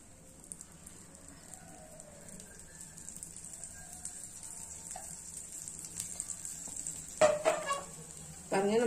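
A sprouted green gram dosa cooks in oil on a pan, making a soft, low hiss for most of the time. Two louder bursts of scraping or sizzling come near the end.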